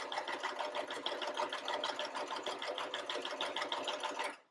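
A sewing machine stitches a straight line on a pocket cloth diaper, a rapid, even run of needle strokes heard close and alone, stopping at the end.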